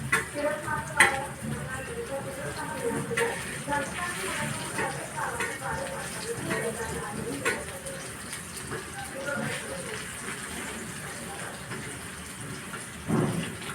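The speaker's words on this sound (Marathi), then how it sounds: "मी सगळे कारल्याचे पीस असे उलटे करून घेते" Bitter gourd pieces frying over a low flame in a pan and being turned over, with a steady soft sizzle and scraping, stirring clatter throughout, and a few louder knocks.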